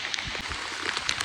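Heavy monsoon downpour in Matheran: a dense, continuous hiss of rain with scattered close drop impacts, steady and loud throughout, with no voices.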